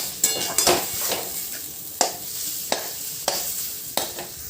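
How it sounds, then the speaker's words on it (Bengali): Chicken mince tossed with spices in a pan sizzles softly while a utensil scrapes and clinks against the metal in irregular strokes, roughly one every half second to second, with no talking. "সমস্ত মশলার সাথে চিকেন থেকে মিশিয়ে ভালো করে আমি চিকেনটাকে নাড়াচাড়া করব।"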